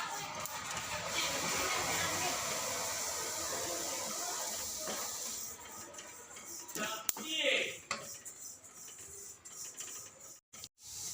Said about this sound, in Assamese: চপখিনি অলপ ৰঙাকৈ ভাজি ল'ম চেণ্ট ওলোৱালৈকে